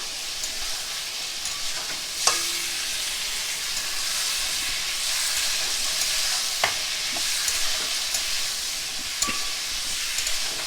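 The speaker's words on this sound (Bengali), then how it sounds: "এর মধ্যে দিয়ে দিচ্ছি আমি সেদ্ধ করা আলুগুলো আর ছোলাগুলো দিয়ে দিচ্ছি।" Boiled potatoes and chickpeas fry in a pan for chana, a continuous loud hissing sizzle with a few sharp stirring clicks and scrapes scattered throughout.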